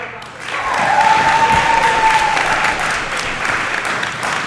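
After a submission win in a featherweight jiu-jitsu bout, a hometown crowd bursts into loud, sustained applause and cheering that fills the hall, with a whistle rising through the noise and a commentator's voice underneath.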